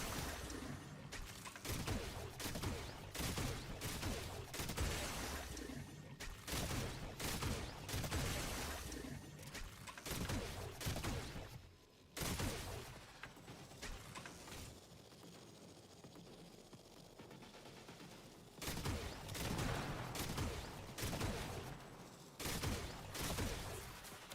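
An auto-seeking weapon firing in the Warframe video game, dense rapid volleys of shots that keep repeating over long stretches, with brief lulls between the bursts.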